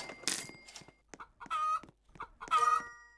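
Cartoon chickens cluck in a chicken farm video game, a few clipped, bright bursts of clucking spaced about a second apart, loud and close, with short electronic chimes between them and no talk.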